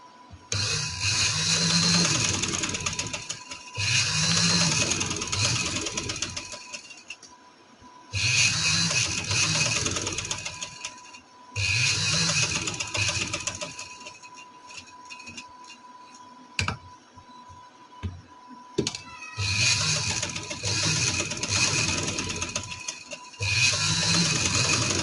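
Sewing machine stitching lace onto a round neckline, running in several sustained bursts with short pauses between them, close and fairly loud, no talking.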